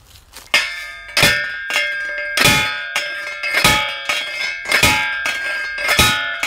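A Sneddens Knockabout multi-tool used as a post driver rings out with about ten sharp metallic clangs at an irregular beat, each leaving a bright bell-like ring that decays between strikes, close and loud with no talking.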